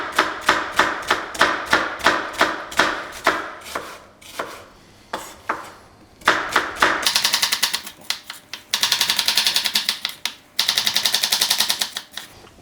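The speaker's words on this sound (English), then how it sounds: "So now I'm just going to slice along the length of the onion up to the root," A kitchen knife slices lengthwise through an onion on a cutting board, the blade striking the board in quick, sharp, evenly paced knocks, with bursts of rapid chopping, close and crisp with no talk.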